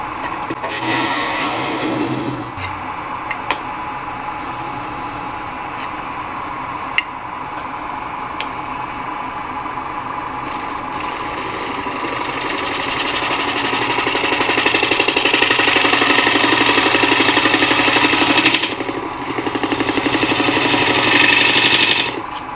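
A 3/8 bowl gouge cuts into wood spinning on a lathe while a chip and dip server is turned, giving a steady broadband scraping hiss with a few sharp ticks, swelling louder and rougher toward the end.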